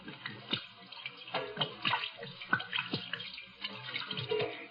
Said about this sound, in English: Hate to waste this good gin washing my hands.